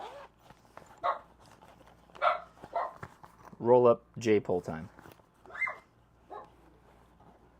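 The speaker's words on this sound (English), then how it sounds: "And now the dog's barking." A dog barks several times in a quick burst, with a person talking quietly before and after.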